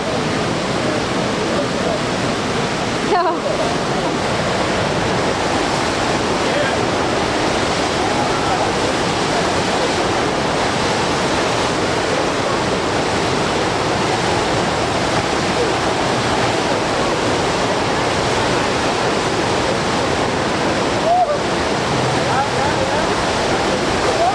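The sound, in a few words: rushing water of the Eisbach river standing wave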